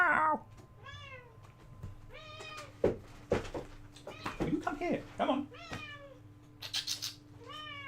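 A cat meows repeatedly in a series of short, clear calls spread through the clip, while someone talks to it and coaxes it closer, with a steady low hum in the background.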